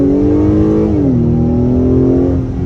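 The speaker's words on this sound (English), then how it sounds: "Different engine noise too. They pump in some noise into this cabin." A 2022 Acura TLX A-Spec engine drones loudly and steadily inside the cabin, with noise piped in, its tone dropping after a shift into second gear and then holding a smooth, rising hum.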